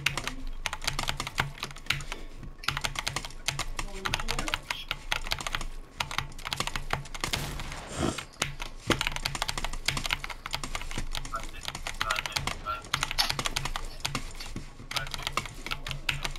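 Steady, rapid clicking of keys on a computer keyboard goes on throughout, close and busy with a few denser bursts, and faint talk is heard in the background.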